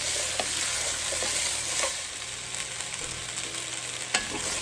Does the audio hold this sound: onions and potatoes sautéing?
yes